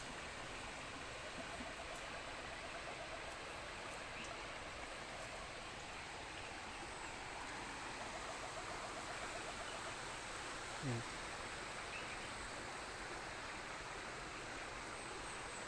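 A river flows with a steady, continuous rushing of water, soft and even throughout, with no voices.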